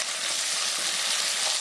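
Three medium sliced onions with a little salt fry and get stirred in a pan for chicken curry, giving a steady, dense sizzle that holds close and even throughout with no voices.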